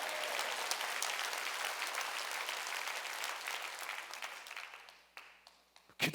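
Congregation at a Korean church Wednesday worship service applauding, a broad, steady roar of many hands that fades gradually over several seconds before a few scattered claps and a brief louder knock at the end.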